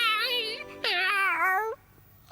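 A cartoon cat meows twice in a clear, drawn-out, wavering voice, the second call longer and falling, followed by a short quiet gap.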